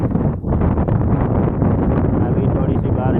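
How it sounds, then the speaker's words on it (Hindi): Cool wind gusts steadily through a village in Sindh on a rainy day, a continuous broadband rush with buffeting against the microphone that stays loud and even throughout. "ठंडी हवा चल रही है"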